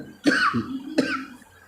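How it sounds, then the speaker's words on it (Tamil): Two distinct coughs about three-quarters of a second apart, close and fairly loud, from someone speaking Tamil while explaining lottery number predictions, with no speech during the coughing. "சாரி அதில் கொஞ்சம் இருமல் வந்துருச்சு"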